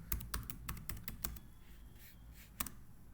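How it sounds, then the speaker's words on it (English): Typing on a computer keyboard, a quick run of close, crisp key clicks in an uneven rhythm, quiet overall, with a final distinct tap after a short pause. "So I will type here dashboard."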